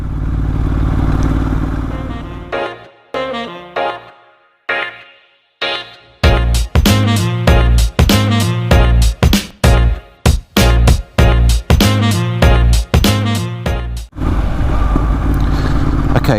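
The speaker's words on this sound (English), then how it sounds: "I am back on the bike, and it is my first ride of the year" A motorbike on its first ride of the year roars up close, then the engine cuts to quiet gaps before a rapid series of sharp revving bursts and chopped throttle blips, ending in a steady engine drone.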